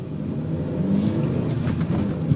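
A car engine revs in first gear with a dense, steady, low-pitched hum that rises slightly, close by and alone without any voices.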